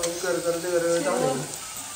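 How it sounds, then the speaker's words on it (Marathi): Whole spices crackle and sizzle as they hit hot oil for a phodni tempering while mutton dum biryani is being made, a lively frying hiss that fades toward the end. "आता फोडणी द्यायला लागली मस्त"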